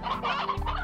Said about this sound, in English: Time to find out if stone hens like regular hens.